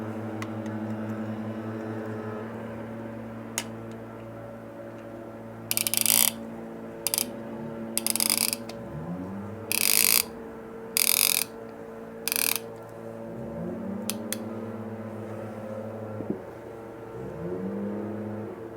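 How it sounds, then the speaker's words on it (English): A socket ratchet clicks in short bursts while bolts are tightened on a Yamaha 250 two-stroke engine during piston installation. The rapid bursts come in quick succession over a steady background hum. "make sure that's tightened all the way. Sometimes you can get another click out of it."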